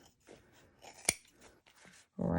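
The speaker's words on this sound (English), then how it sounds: "grab our scissors" Scissors snip through vinyl corners of a bag being sewn, a few quiet cuts with one sharp, loud snip near the middle, followed by a burst of rustling handling noise.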